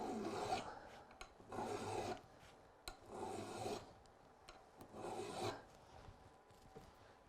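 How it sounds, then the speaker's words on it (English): Hand file rasping along a tool edge being sharpened, four long, even strokes in steady rhythm with short pauses between, close and fairly quiet, no talking. "Make sure you're doing long, even strokes with the file."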